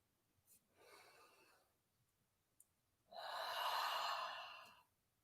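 A yoga instructor breathes out audibly during a stretch-and-strength class, a soft breath near the start and then a long, loud, airy exhale close to the mic, with no talking.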